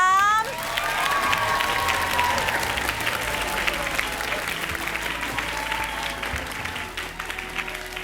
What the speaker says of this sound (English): A big round of applause for Team Sawatdi Siam.